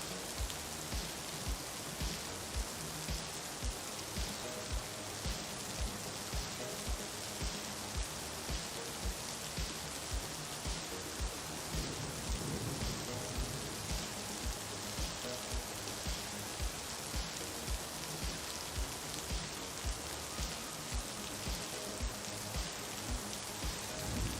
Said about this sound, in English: the sizzling sound is the rain sound